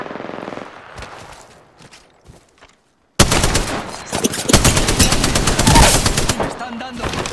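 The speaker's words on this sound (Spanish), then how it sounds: "Disparando." Gunfire in a video game: after a quiet stretch with faint voices, loud rapid automatic fire erupts and keeps going in dense, close bursts.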